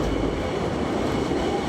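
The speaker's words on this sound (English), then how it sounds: "Riding the train down was really, really fun." A small train rides down into a cave in Slovenia: a continuous rumbling rail roll with faint wheel clatter, heard loud and close from on board, with no talk.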